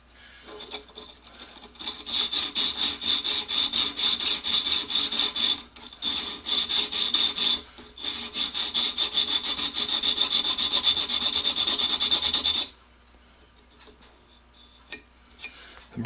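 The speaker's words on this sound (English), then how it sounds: "Yeah, I got a little burr on there, so I'm hitting the edge" A blade edge being honed to remove a burr, a close, fast, rhythmic rasping scrape that runs in steady bursts with brief pauses, then stops abruptly, leaving near silence and a few faint taps.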